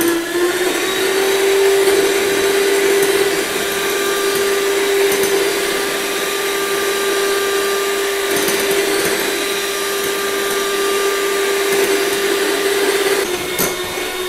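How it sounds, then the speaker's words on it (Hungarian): Steady, loud electric whirring hum of a kitchen mixer whipping egg whites into stiff peaks with sugar, running continuously, with a slight shift in pitch partway through and no voices. "azt elkezdem kemény habbá verni"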